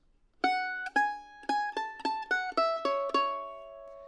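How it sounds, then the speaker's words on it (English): Solo mandolin picks the next short phrase of the B part of "Pretty Red Lips," about nine crisp plucked notes in a steady rhythm, close and clear, the last note left ringing. "the next little section of the B part is going to sound something like this."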